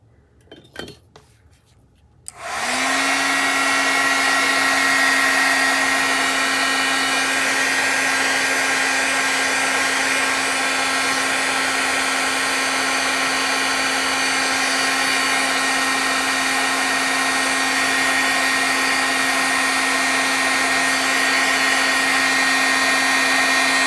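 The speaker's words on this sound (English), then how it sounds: "I might just do some little marks with the heat gun again." After a few light clinks, a heat gun switches on and blows with a loud, steady whir and hiss that holds unchanged to the end.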